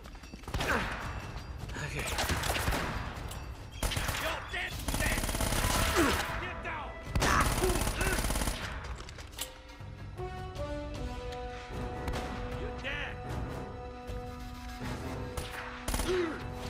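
Submachine gun fire in the video game Uncharted: Drake's Fortune, loud dense bursts of shots over a busy game mix with music, thinning out toward the end.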